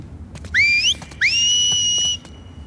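Two whistled signals in The Last of Us Part II, each a loud, rising two-tone call, the second held longer, ringing out clearly over a quiet background.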